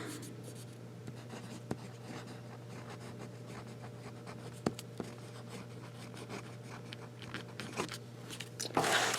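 A medium-nib pen scratches steadily across paper in a field book, a close, quiet, continuous scribbling with a few sharp taps and a louder rustle at the end.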